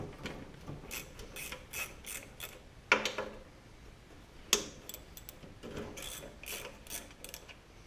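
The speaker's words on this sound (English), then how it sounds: "So let's get the cover unbolted and get this thing apart" A ratchet works the half-inch bolts off the cover of an 8 hp Briggs engine, giving faint, close clicking bursts in irregular runs, with two sharper metallic knocks.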